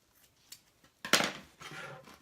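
Scissors cut through a 1.5-inch-wide ribbon. A few faint clicks come first, then one crisp, close snip, followed by a softer slicing rustle. No one speaks.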